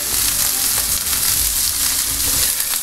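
Three medium onions sizzle in a pan for Kerala nadan-style prawn roast, a loud, steady, close frying hiss with faint stirring and no talk.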